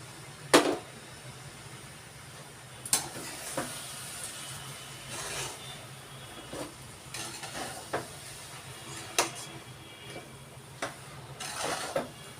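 Pumpkin fries in ghee in a pan for halwa, giving a soft, steady sizzle with scattered sharp stirring clicks and scrapes.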